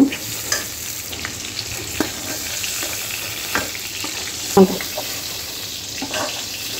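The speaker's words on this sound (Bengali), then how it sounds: "পটলগুলো আমি সুন্দর লাল লাল করে ভেজে নিয়েছি, এখন আমি তুলে নেব।" Pointed gourds (potol) fry in oil in a pan, with a loud continuous sizzle close by and occasional knocks and scrapes of a utensil as they are moved, with no talking.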